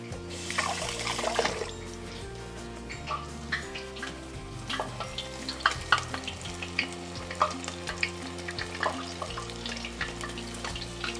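Goat-cheese-stuffed squash flowers fry in a shallow pan of vegetable oil, a soft steady sizzle with light stirring clinks and occasional pops, close and low in level.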